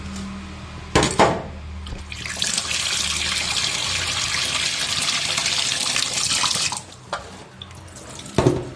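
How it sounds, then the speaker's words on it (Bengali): Hilsa fish are rinsed under a running kitchen tap, a loud, steady gush of water splashing for several seconds, framed by sharp clunks and handling noises before and after. "এখন মাছগুলো সব ধুয়ে নিচ্ছি"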